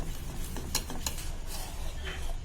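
Milk being stirred in a pan for vermicelli kunafa, a steady scrape and light clink of a spoon against the metal over a low background hum, close and fairly quiet.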